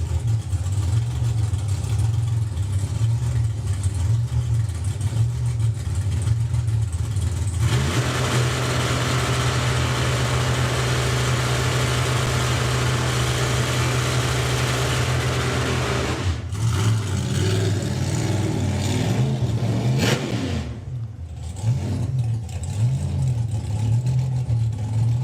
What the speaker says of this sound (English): And that's the burnout from Alan Didwell with the Dragster.